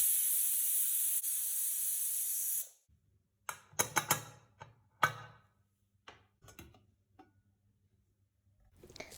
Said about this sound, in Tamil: மூணுலேருந்து 4 விசில் விடுங்க.